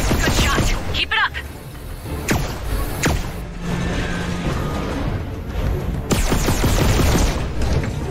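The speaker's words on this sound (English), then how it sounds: "Try firing at its weak spot." Weapon fire in the VR game Red Matter 2, several sharp shots and thumps spread across the clip, some in quick bursts and others spaced apart, loud against a background of game ambience and occasional speech.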